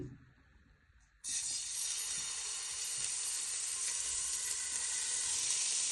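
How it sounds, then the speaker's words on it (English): Pork meatballs for hoisin noodles hit a hot pan with a sudden onset, then a loud, steady sizzle holds without letting up, close by and with no talk. "Then you'll fry your meatballs first. Now you want to place in all your meatballs."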